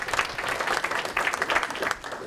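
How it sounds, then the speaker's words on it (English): Audience applause at the MicroCred 2018 conference session before lunch, a steady wash of many hands clapping in a room, moderately loud and continuous throughout. "with a round of applause just thanking them for putting us all in the same room"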